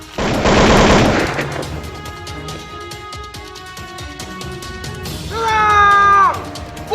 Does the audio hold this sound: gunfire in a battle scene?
yes